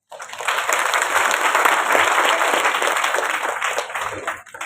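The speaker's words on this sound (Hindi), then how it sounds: "ताली दो चार ने बचाई" Audience clapping at a Hindu religious discourse by a guru, a steady dense patter of many hands that starts abruptly and holds loud for several seconds before tapering slightly at the end.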